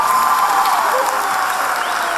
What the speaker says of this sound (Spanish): un aplauso para Ángel